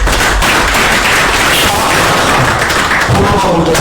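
A crowd at an on-stage felicitation ceremony claps loudly and continuously, a dense sustained burst of applause with no voices.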